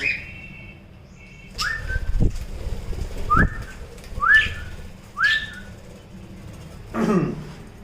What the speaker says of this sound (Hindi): हमने अपने कॉकटेल्स को भी दाना डाल दिया और हमारा ये किंग आ गया है नीचे और उसकी क्वीन ऊपर बैठी है।